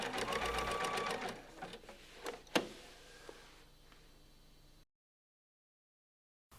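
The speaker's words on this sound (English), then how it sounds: "you can secure the position of the fly guard by stitching from the inside." A close, rapid sewing machine run topstitches the fly guard on a pair of jeans, starting fast, then slowing to a few separate stitches and stopping, followed by near silence.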